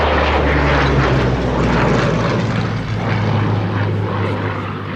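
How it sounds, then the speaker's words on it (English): Rolls-Royce Merlin-style drone of a Sea Hurricane Mk1A fighter's piston engine during a Fly Navy air show display, a loud steady roar that fades slightly as it passes. "A testament to the design skills of Sydney CAM and the builders of this particular example of a Sea Hurricane"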